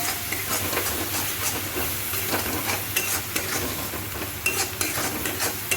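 Tomatoes with salt and garam masala fry in a hot pan, giving a loud, dense sizzle with steady stirring scrapes and occasional clinks throughout.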